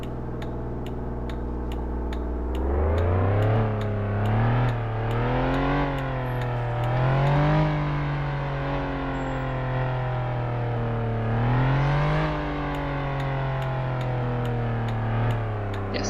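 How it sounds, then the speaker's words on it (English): Car engine in the Flashing Lights video game revving up and down repeatedly, the pitch rising and falling in several surges over a steady idle, with faint regular ticking underneath and no talk. "it will sound like I'm just revving my engine a lot"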